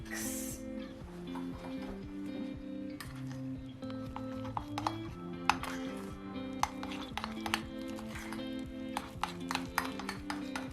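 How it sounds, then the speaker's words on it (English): Egg being mixed into a batter in a bowl, with steady clinking and scraping of a utensil against the bowl, quick irregular taps running throughout, close and moderately loud, no voices. "And then the last thing is just 1 egg. And then just give it a good mix."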